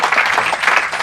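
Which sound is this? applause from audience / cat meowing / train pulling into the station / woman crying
applause from audience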